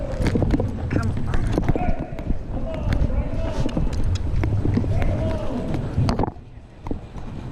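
A horse clip-clops along with a steady run of close, loud hoofbeats, occasional snorts and tack noise, while a rider talks over the movement.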